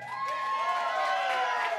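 A comedy club audience cheers and whoops in a short, lively burst, with raised voices and whistling tones over light clapping.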